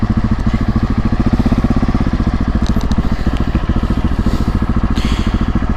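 A freshly washed Honda Africa Twin motorcycle engine runs with a loud, steady, close throbbing pulse throughout, with faint wind and road noise on top and no clear sound of hard braking.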